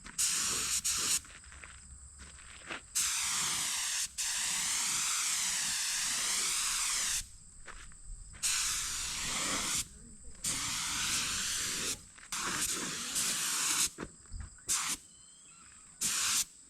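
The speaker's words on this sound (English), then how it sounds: "For primer, I typically use a cheapy Harbor Freight gun." Cheap Harbor Freight spray gun laying primer on the rims of a 1960 John Deere 430 two-cylinder tractor, loud close hissing bursts of spray that start and stop repeatedly, with short quiet gaps between passes.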